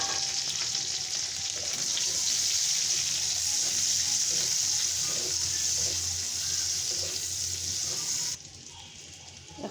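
Chopped garlic, onion and green chili dropped into hot oil in a pan, a loud steady sizzle with faint stirring scrapes that carries on for several seconds before easing off abruptly near the end.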